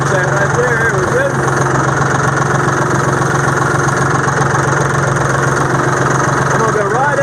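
A forklift's engine runs steadily with a loud, constant low drone and mechanical rumble throughout, with a voice talking over it.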